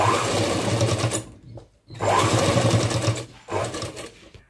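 A sewing machine stitches a long frock in steady whirring runs, stopping twice in brief pauses and starting again, close and fairly loud.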